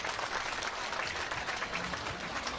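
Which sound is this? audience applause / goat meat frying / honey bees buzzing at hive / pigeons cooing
audience applause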